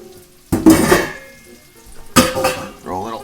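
Blanched broccoli is dropped into a bowl in a kitchen, making two close, clattering bursts about a second and a half apart with a brief rattle after each, separated by quiet.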